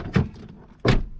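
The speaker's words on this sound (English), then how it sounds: "let me open this door." Two solid thunks sound close by on a 2009 Dodge Ram 1500 door, one as the latch releases and another heavier clunk a moment later, with no talking.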